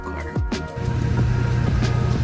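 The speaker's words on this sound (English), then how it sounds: "Alright, now to check the AC in the car." Mitsubishi Montero Sport second generation with its air conditioning running on a brand-new auxiliary fan motor, a steady low hum and drone that settles in after a brief shift and holds evenly at close range.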